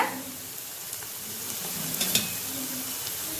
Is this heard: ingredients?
yes